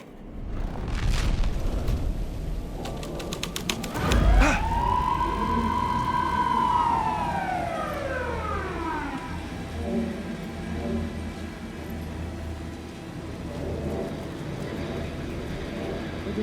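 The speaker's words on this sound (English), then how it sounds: "A police car?" A police car siren in the video game Alan Wake 2 rises in one long swooping wail that arcs up and slowly falls away over ambient game noise, preceded by a sharp thud and rattling bursts.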